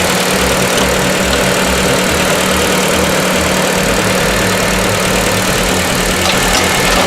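A Mazda Miata engine idling while a fuel pressure regulator is fitted, a loud, steady, close rumble with an even low throb that runs unbroken for the whole stretch and no talking.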